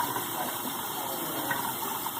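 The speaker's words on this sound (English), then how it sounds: "Rinse the soap off completely from fingertips to elbows." Tap water streams steadily while soap is rinsed off the hands and forearms at a sink, a soft continuous hiss with no voices over it.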